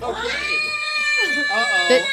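A cat meows in a drawn-out, wavering cry with a rising-falling tone, then a second shorter meow near the end, close and fairly loud with light talk mixed underneath.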